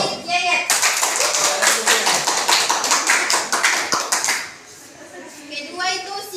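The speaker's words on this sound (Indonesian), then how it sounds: "tepuk tangan untuk adik Yeyet." Classroom applause during a micro-teaching session, many hands clapping in a dense burst for several seconds, then fading out as a voice returns softly near the end.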